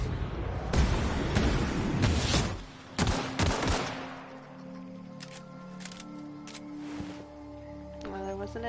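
Gunfire in The Outer Worlds role-playing shooter, a cluster of loud rapid shots at first, then scattered single cracks and sharp hits fading into quieter game effects and tones, with a voice talking over parts.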